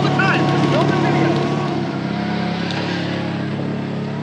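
Broadband engine drone of a farm tractor used for hay work runs continuously and loud, with wind-like rumble and faint whining tones throughout.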